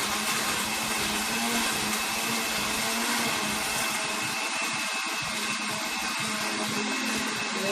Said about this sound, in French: je vais aller couvrir et puis broyer ma machine